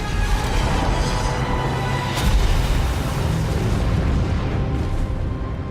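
A ship in a World of Warcraft cinematic trailer crashes and explodes into a mountainside, with a loud sustained rumbling roar and a sharp burst partway through.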